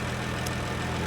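Restored Jaguar E-Type engine idling in a classic car workshop: a steady, even, faint mechanical hum with a low throb, alone.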